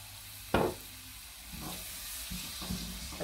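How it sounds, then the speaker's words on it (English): Chicken pieces with salt, pepper and garlic are stirred in a hot pan for a chicken pot pie: a sharp clank, then a soft, steady sizzle with a few scraping stirs. "Stir that around so it all gets some seasoning on it, and garlic."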